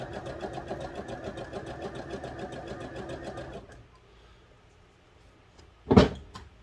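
A sewing machine top-stitches fabric in a fast, even mechanical rattle for about three and a half seconds, then stops, followed by a single sharp clunk.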